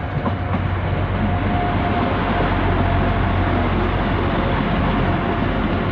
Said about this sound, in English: coming in now is the Transport for Wales service to Carmarthen or Manchester Piccadilly